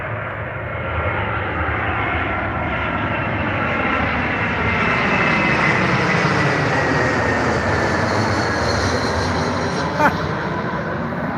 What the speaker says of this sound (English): there is an airplane. I believe it's coming into land.